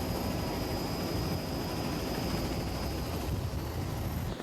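Steady helicopter rotor and engine drone from a camera helicopter over an offshore powerboat race off Sarasota, Florida, in 1989, a continuous broadband roar with a faint high whine, constant level throughout and no voices.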